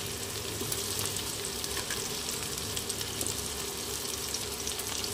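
Chopped onion and potato crackle in hot oil with dried red chilli, cumin seeds and bay leaf, a dense, even sizzle that holds steady for several seconds with faint stirring beneath; no voices.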